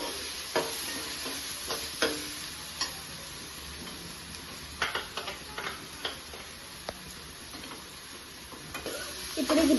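Ginger garlic paste fries in a pan for chicken fry with gravy, a soft sizzle broken by a series of sharp spatula taps and scrapes against the metal, close and irregular.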